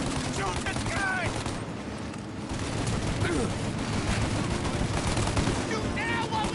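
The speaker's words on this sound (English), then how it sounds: "Shoot out their gun when there's a break in the fire!" Sustained gunfire in the Mafia video game, a dense crackle of shots over a busy, loud mix with voices shouting over the shooting throughout.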